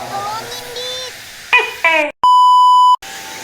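A six o'clock bell in Japan sounds as one loud, steady electronic beep lasting under a second, clean and continuous. Voices talk before it, and a faint tone lingers after.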